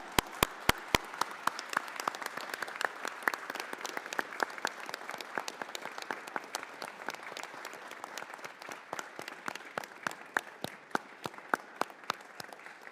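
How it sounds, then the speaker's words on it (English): Applause at a US House committee hearing rises as a burst of loud individual claps up front, then settles into sparse, sharp claps from a small room audience that continue steadily and gradually thin out. "I just want to give him a big round of applause for his service."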